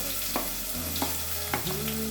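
Onions frying in hot oil for mutton sukka, an even close sizzle broken by a few stirring scrapes and clinks of the spoon against the pan.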